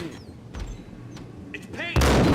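Gunfire in the video game Max Payne: a loud, dense burst of shots breaks out near the end after quieter game ambience and brief voices.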